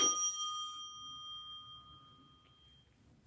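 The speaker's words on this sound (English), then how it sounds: "I'll ring the doorbell." Doorbell chimes ring out at the entrance of a house: a bright electronic ding-dong with clear ringing tones that fade over about three seconds, above a faint background murmur.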